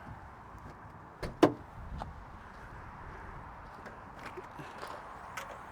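The rear trunk of a Lada Niva 4x4 is opened, with a couple of sharp mechanical latch clicks close together, then faint rattling and shuffling against a quiet background.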